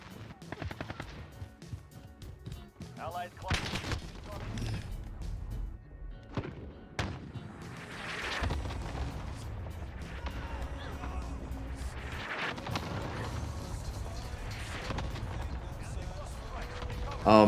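Pistol gunfire in a video game, scattered sharp shots and thuds amid busy game action, with a person talking over much of it.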